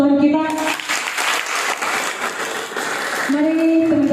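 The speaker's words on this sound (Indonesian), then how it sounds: "Tepuk tangan buat Tuhan kita." Applause from a church or school audience after a spoken testimony, with dense clapping filling the middle of the clip while a voice or sung tone sounds at the start and end.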